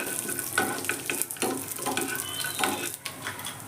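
Peanuts sizzle and crackle in hot oil with intermittent scraping stirs, close and steady throughout.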